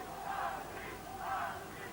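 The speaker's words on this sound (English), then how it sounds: "the Albi fans in the crowd now beginning to shout" Albi rugby supporters in a stadium crowd raise a distant, swelling roar of shouting in two broad waves, faint and blended into a continuous wash of crowd noise.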